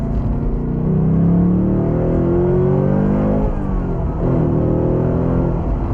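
Ford Mustang Dark Horse V8 with a manual gearbox accelerating hard, a loud, steady engine roar with rising harmonics that dips briefly around a gear change and then pulls again, heard close with no talking.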